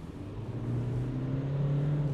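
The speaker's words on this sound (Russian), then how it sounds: "Вот давайте сейчас на 40 газку в пол." A Hyundai Tucson accelerates at full throttle from about 40 km/h, its engine drone rising steadily and growing louder from inside the cabin, with no talk.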